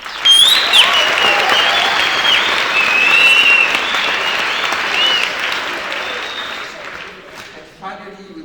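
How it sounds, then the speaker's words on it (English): An audience at a theatre production bursts into loud, sustained applause that fills the room for several seconds, then gradually thins and fades toward the end. "But give them a big round of applause as well."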